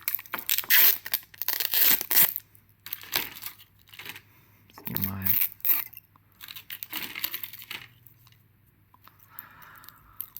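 Double-sided tape peeled off a laptop battery pack up close, a few short ripping and crackling bursts separated by brief pauses, with no talking.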